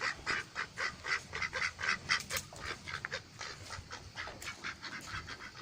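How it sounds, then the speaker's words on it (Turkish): A flock of ducks quacks and honks continuously nearby, the calls overlapping in a busy, steady chatter. "Ördeklerimiz de var."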